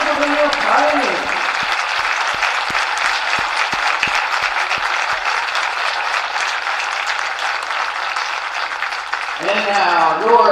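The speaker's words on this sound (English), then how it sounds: "A round of applause for the Transylvania Pioneers." Crowd applause for the Transylvania Pioneers baseball team at the HCAC championship game, sustained dense clapping from the stands throughout, with a voice speaking briefly at the start and again near the end.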